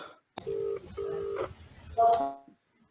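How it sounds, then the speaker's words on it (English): Telephone dialing tones sound as a call is placed: a sharp click, then a few steady electronic beeps in quick succession, the last one louder and brighter, with no talk over them. "we'll dial through to that"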